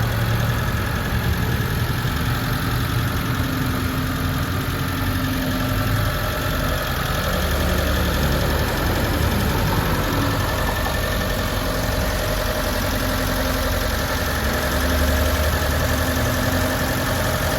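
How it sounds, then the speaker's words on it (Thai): A 1994 Mitsubishi Lancer 1.5 GLXi with a fuel-injected 1.5-litre engine idles steadily nearby, a constant low rumble with a faint rhythmic knock, no voices. "แล้วก็เราไปฟังเสียงเครื่องกันดีกว่าค่ะ"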